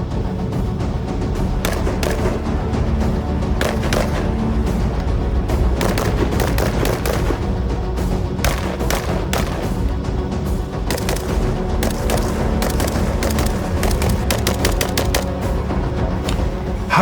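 An FB Radom Beryl rifle fires repeatedly outdoors, with loud sharp reports in uneven bursts over a steady rumble of echoes, and other gunfire mixed in.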